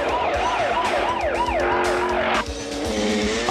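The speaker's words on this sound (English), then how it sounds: "driving the police car chasing Sylvester Stallone" A police car siren wails loudly in a film car chase, rising and falling in a rapid yelp close by over engine roar, then cutting to a harsher steady tone near the end.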